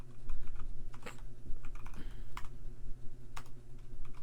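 Java code is typed on a computer keyboard, with irregular close key clicks and occasional heavier strokes over a low steady hum.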